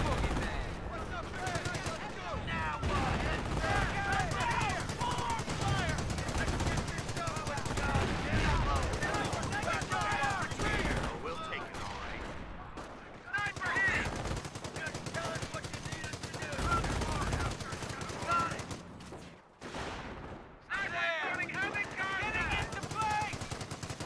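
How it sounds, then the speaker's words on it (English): Sustained machine-gun bursts and rifle fire rattle almost without pause through a Company of Heroes 1v1 battle, dense and loud with brief gaps, mixed with game voice lines and a player talking. "And base is taking fire."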